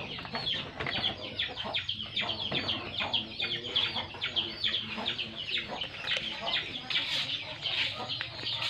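Chickens clucking and squawking at a rural house in Isabela, a busy, continuous chorus of several birds close by, with some background voices mixed in.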